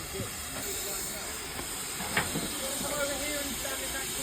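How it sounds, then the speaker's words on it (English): A steam locomotive on the Severn Valley Railway, heard from the footplate, hissing steadily with a high continuous steam tone, a brief burst of louder release midway, and low rumbling beneath, while people talk nearby. "that's the loco"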